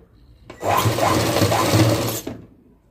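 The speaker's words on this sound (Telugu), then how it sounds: "అంటే షోల్డర్స్ మీద ఒక 1/2 ఇంచు మీద కుట్లు అయితే వేసేసుకుందాము." An electric sewing machine runs a quick burst of stitching along the shoulder seam of a long frock, a close, steady whirring chatter of about a second and a half that starts and stops abruptly, with no talk.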